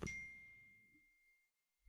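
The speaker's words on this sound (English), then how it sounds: "Let me silence this phone, which I thought I had, but apparently not." An iPhone alert tone gives one bright chime that rings on as a long, clear sustained note and slowly fades, with a short low thump at the very end and no talking.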